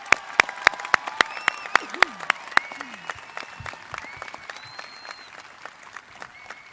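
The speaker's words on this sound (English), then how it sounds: "Audience, please join me in a round of applause to congratulate the class of 2024" Scattered, sharp hand claps ring out from a high school graduation audience congratulating the class of 2024, a few strong claps early then fading to lighter, irregular clapping with faint voices and a cheer in the hall.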